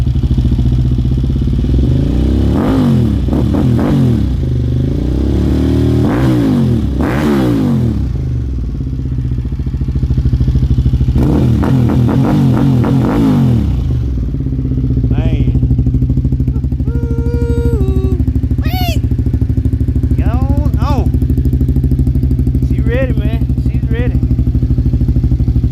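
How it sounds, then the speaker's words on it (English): A Suzuki TL1000R motorcycle idles with a steady rumble and is revved in short repeated bursts, two clusters of sharp blips, before easing back to idle while people talk nearby. "Let's give her a rev."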